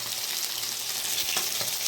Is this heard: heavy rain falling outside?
no